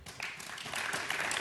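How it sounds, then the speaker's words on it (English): Brief, moderately loud applause from an audience at a city council meeting, with a dense patter of many hands clapping that rises slightly toward the end. "Please hold your applause."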